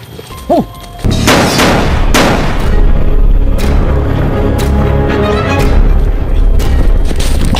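A loud, close gunshot boom with a heavy reverberating tail, followed by several further sharp cracks and rumbling blasts like scattered gunfire.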